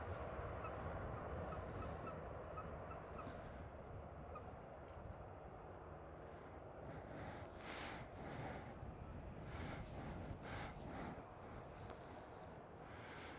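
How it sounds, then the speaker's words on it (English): Birds on the grass beside the runways at Schiphol airport in Amsterdam give repeated honking, fowl-like calls in bursts over a steady roar of distant aircraft and wind. "Over here, quite a lot of birds as well. On the grass."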